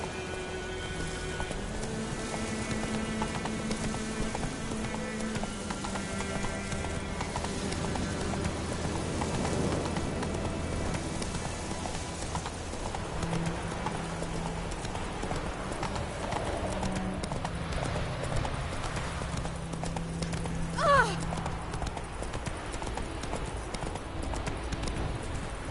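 Steady clip-clop of a horse's hooves galloping in The Witcher 3, rhythmic and close, running under music and a soft patter like rain, with a brief brighter sound near the end.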